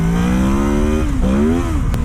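A Honda VFR800 motorcycle engine revs hard with a rising harmonic whine, dips briefly at a shift, then climbs again toward the VTEC crossover, loud and close.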